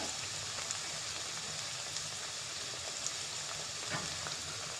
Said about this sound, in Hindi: अब हम इसमें डाल देंगे कटी हुई प्याज।